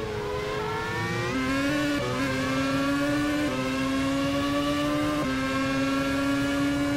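A race car engine droning steadily in a simulated San Marino race, its pitch held and stepping up and down through gear changes, continuous and moderately loud with no talk.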